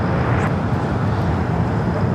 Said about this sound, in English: Japan Airlines flight 16 coming up from Tokyo Haneda, A350 1000 up next there on the north side.